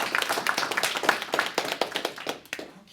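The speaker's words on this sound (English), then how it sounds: "let's all give her a round of applause." A small audience at a public library talk applauding, dense close hand clapping that carries on steadily and tapers off near the end.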